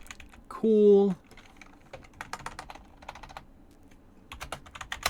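Computer keyboard typing in scattered bursts of clicks, close and fairly quiet, with a short spoken word near the start.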